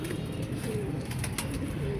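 Domestic pigeons coo in a steady low rolling murmur, several birds at once, close and continuous with faint rustling behind.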